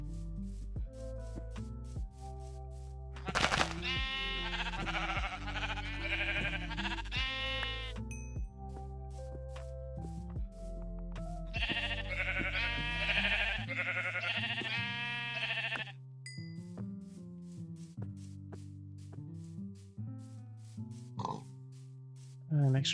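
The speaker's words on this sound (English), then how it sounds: "It does involve punching some sheep to death though." Repeated sheep bleats from Minecraft, several distinct wavering calls standing out over a layer of game music and sound effects, with a person talking alongside.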